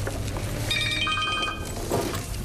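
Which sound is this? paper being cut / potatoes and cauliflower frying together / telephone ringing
telephone ringing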